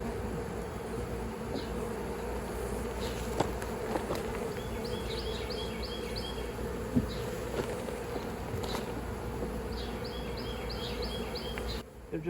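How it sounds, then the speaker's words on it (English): Honey bees buzz densely around an opened hive during a colony split, a steady close drone of many wings continuing throughout with no talk. "they're all gonna fly back, but there won't be a hive to fly back to"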